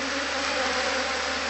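Bees swarm around a honey-leaking honeycomb during a honey harvest, a steady dense buzzing drone that holds unbroken and fairly close throughout.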